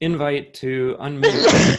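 A sneeze at the end of a short burst of speech during a town selectboard meeting heard over a remote call, a sharp, loud single burst.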